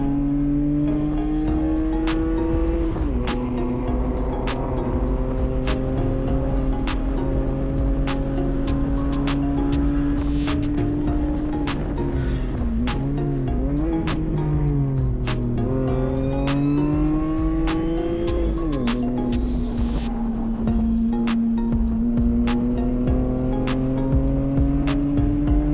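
In-car sound of a BMW 128i track car lapping a circuit behind a Corvette: a loud, steady engine drone throughout with pitch rising and dipping through shifts and corners, and faint tire noise.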